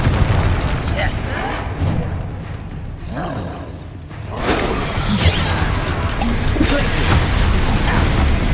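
A Confringo blasting curse goes off in Hogwarts Legacy, loud booming blasts with a shattering crackle over dense battle noise, swelling again after a brief lull midway, with voices under the din.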